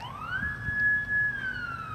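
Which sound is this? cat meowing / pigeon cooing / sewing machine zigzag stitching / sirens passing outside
sirens passing outside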